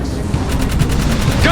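Rapid gunfire rattles in a steady stream of evenly spaced shots in the video game Jak 3 as eggs are shot, loud and continuous, ending with a brief rising whoosh.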